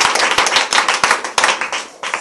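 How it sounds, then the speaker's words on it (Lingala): Audience applause during a Congolese theatre performance: a dense burst of many hands clapping steadily and loudly for a couple of seconds, with no voices. "Très bien, applaudissez."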